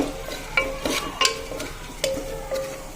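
A spoon stirs food in a cooking pan, giving a few scraping, clinking strokes at an irregular pace, close by with no talk.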